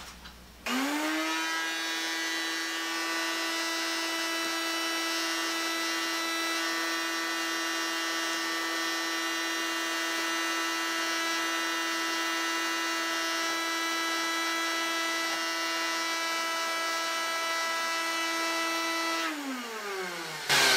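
A vacuum forming setup's vacuum motor spins up, runs as a steady high-pitched whine for about eighteen seconds with a sizeable vacuum leak, then winds down, with no talking.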